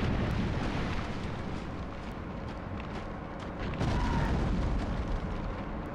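A missile explosion in Tom Clancy's Ghost Recon 2 on PS2 makes a loud, sustained, rumbling roar that swells slightly partway through, with no talking.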